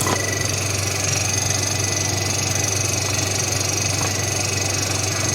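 A Meter Miser refrigerator compressor, oily on its top and bottom, runs with a steady, unbroken mechanical hum and buzz that holds an even level throughout, with no other sound over it.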